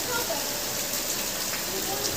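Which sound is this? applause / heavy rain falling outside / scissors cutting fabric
heavy rain falling outside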